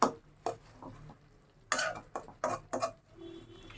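A pot of beef curry cooked with cut spices is stirred and its lid lifted, giving several sharp metallic clanks and scrapes spaced irregularly against a quiet background.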